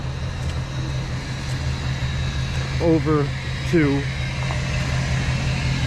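A truck engine idles with a steady low rumble as someone speaks briefly over it.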